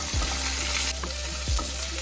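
Curry leaves, ginger and garlic sizzle hard in hot sesame oil with mustard seeds, a loud, close crackle broken by a couple of stirring scrapes.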